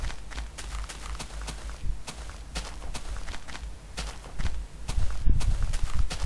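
Rapid running footsteps in Minecraft, a quick regular series of soft thuds that carries on steadily and grows slightly louder near the end, with no talking.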